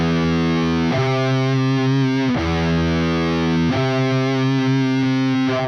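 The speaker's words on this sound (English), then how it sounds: "next up we have our minor sixth," Heavily distorted electric guitar sounds a minor sixth interval in a metal context, struck several times at irregular spacing, each dense, tense chord ringing loud and sustained until the next strike.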